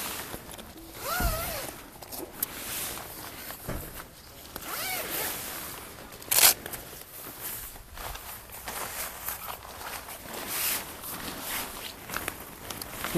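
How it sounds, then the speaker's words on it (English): A zipper on a Sienna camper awning is drawn open in several short rasping pulls, with shuffling movement and handling noise around it, close by and with no talk. "I think you need to unzip it"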